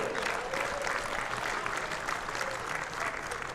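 Spectators at an Australia versus Rest of the World lawn bowls exhibition match applaud, a steady, full round of crowd clapping sustained throughout at even loudness.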